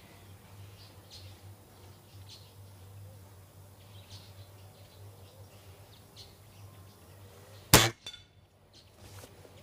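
A Weihrauch HW97K blue laminated 4.5mm spring air rifle fires a single short, sharp metallic crack as the spring slams home, followed by a brief decaying ring over quiet outdoor ambience with faint bird chirps.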